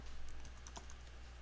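Quick keystrokes on a computer keyboard as a terminal command is typed, a short burst of several light, close clicks at moderate volume with no talk.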